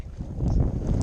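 Wind gusts over a lake during an inflatable kayak outing on Lake Somerville, Texas: a low, rumbling buffet against the microphone that swells and holds for a moment.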